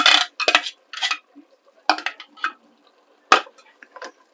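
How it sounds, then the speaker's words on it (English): Pesto risotto verde with broccoli being stirred in a pot, a spoon clinking and scraping against the pan in short separate bursts, close and fairly loud, with quiet gaps between strokes. "Give that a good stir through."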